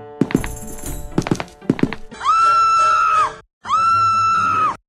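Two women scream in a cartoon scene, long sustained high-pitched cries following a burst of loud thuds and clatter, each scream lasting about a second with a short gap between.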